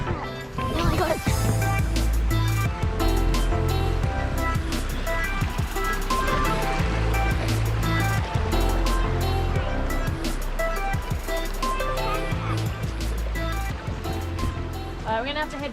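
Loud, continuous rush of floodwater from an overflowing river pouring over a bridge on a bush fire-line track near Dwellingup, a steady broadband roar with voices speaking over it throughout.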